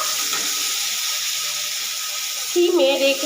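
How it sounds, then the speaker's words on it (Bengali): Onion, garlic and green chilli paste with cumin, coriander and turmeric powders sizzles in hot oil in a pan on a low gas flame, a steady close hiss throughout with a brief higher squeal near the end. "গ্যাস সিমে রেখে আমি কষাতে থাকবো যতক্ষণ না তেল ছেড়ে বেরোয়।"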